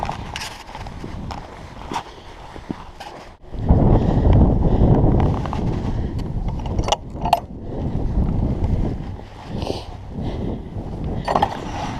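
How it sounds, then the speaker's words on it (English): Wind gusting at the top of Cheddar Gorge in the Mendip Hills, a loud low rumbling buffet against the microphone that swells after a quieter start, with scattered footstep-like knocks and clicks. "Made it to the top and into the wind."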